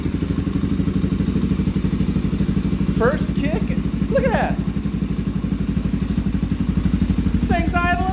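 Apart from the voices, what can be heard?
Suzuki DRZ 470sm stroker motorcycle engine idling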